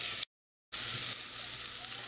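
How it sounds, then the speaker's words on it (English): Chopped bodi beans sautéing in a pot send up a steady bright sizzle, briefly cut to silence before the frying hiss resumes evenly. "Just want to saute everything in here until it's fragrant and soft."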